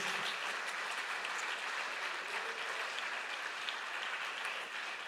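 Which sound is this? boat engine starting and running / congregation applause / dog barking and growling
congregation applause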